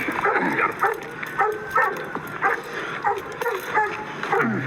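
A dog barks and whimpers repeatedly during a sheriff's arrest at night, yelps mixed with voices and shouting, close and fairly loud.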